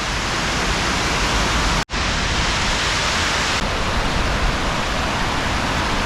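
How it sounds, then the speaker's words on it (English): Water pouring out of a hydroelectric station in the Elan Valley, a dense, steady roar like a waterfall heard up close, broken once by a brief dropout, with no talking. "What you can see there is the water coming out from the hydroelectric station, which is situated here."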